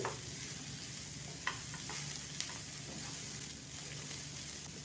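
Cut snake gourd stirred and sautéed in a pan: a soft continuous sizzle with a few light spoon scrapes and clinks, fairly quiet and steady, with no talking.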